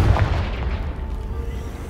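Confringo blasting spell in Hogwarts Legacy, a deep booming explosion that hits at the start and then rumbles and fades over the following second or so.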